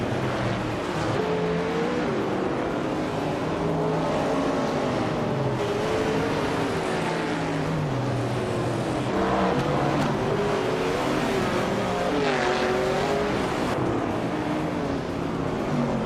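Engines of race cars in a video game race, led by a classic 1971 Nissan Skyline 2000 GTR, droning and revving continuously with rising and falling pitch as the cars accelerate and shift, loud and steady throughout.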